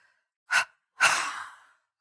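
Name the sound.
double exhalation through the mouth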